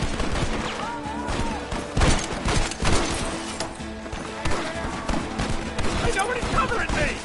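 Rapid bursts of gunfire crackle through a chaotic Red Dead Redemption shootout, with dense overlapping shots and sharp loud cracks layered under voices shouting in the fray.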